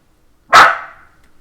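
A single sharp dog bark, loud and close, ringing briefly in an otherwise quiet room.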